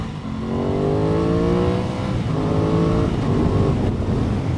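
An Aprilia Tuono 660 engine pulls smoothly up through the revs while riding, a steady climbing drone that resets with gear changes, heard close and fairly loud over wind noise, with no talking.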